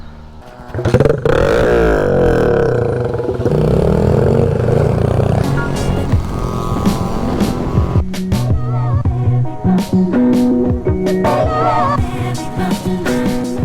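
A motorcycle runs loud and close with its exhaust fallen off, giving a raw, rattling roar with revs rising and falling and a clattering edge throughout.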